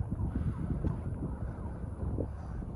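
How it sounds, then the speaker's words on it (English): Strong wind buffets the microphone in an outdoor cemetery on a wet, windy day, making a constant low rumbling roar with gusty surges throughout and no voices. "So windy today"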